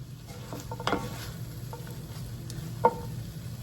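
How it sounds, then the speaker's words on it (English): Mushrooms and asparagus sautéing in a pan, a low steady sizzle with scattered light clinks and stirring scrapes, one sharper knock near the end, no talking. "I am going to saute these until the mushrooms are nice and brown and cooked through, and the asparagus is nice and tender"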